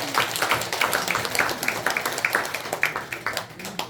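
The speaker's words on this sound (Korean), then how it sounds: "큰 박수 한번 부탁드립니다" An audience at a Buddhist temple event applauds a dancer, a moderately loud, steady patter of many hands clapping with irregular individual claps standing out, continuing without pause.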